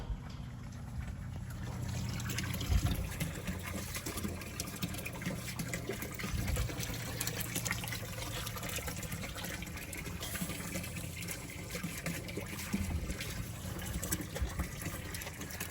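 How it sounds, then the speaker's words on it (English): Dog lapping water from a bowl, continuous wet splashing and slurping at close range, fairly loud and steady for the whole stretch with no talking. "between the way you drink water, y'all are quite the pair"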